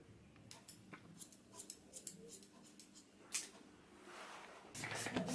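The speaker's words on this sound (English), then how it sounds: "So we're getting a bit of a cut now, nice little trim, starting to take shape." Scissors snip at a non-surgical hair replacement system during a trim, a run of quiet crisp cuts in quick irregular succession, faint and close, followed by a soft rustle.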